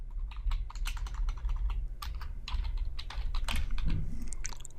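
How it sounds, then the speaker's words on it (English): Close, steady clatter of a computer keyboard as a SQL query is typed into a PostgreSQL query editor, quick irregular keystrokes over a low background hum. "So you just type in select"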